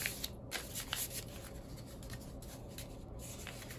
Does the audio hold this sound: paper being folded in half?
yes